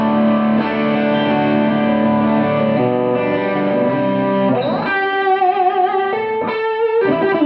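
An electric guitar fitted with Wiggins Texas wound Strat pickups plays through overdrive, sustained driven chords ringing thick and loud, then shifting to higher bent notes, with no talk.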